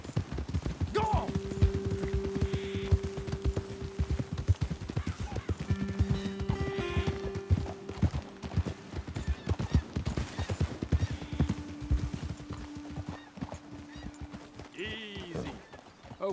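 Horse hooves clip-clop in a steady rhythm throughout in Red Dead Redemption II, with a sustained low musical tone and occasional voices over it.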